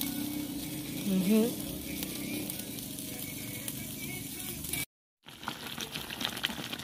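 Steady frying sizzle crackles in a pan throughout, with a brief murmured voice early on and a short dropout near the end.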